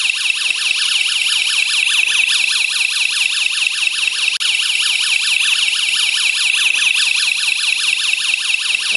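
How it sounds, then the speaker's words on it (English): A door alarm shrieks continuously with a rapid warbling electronic tone, loud and close, repeating without pause and with no voices. "when you open the door, the alarm will go off."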